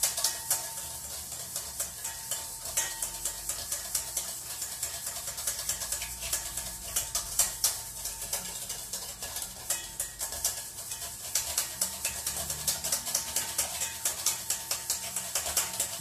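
Oil being whisked slowly into a bowl for a spinach salad dressing, a steady run of quick, light scraping clicks of the whisk against the bowl, close and fairly even throughout, with no talking.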